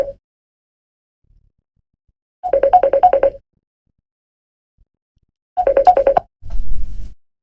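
Incoming phone call ringtone sounding in two loud, rhythmic bursts of warbling electronic tones separated by silence, followed by a lower buzzing rattle, with no talking.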